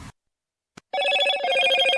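A phone ringtone plays, loud and close, starting after a short silence as a bright, repeating electronic melody with no talking over it.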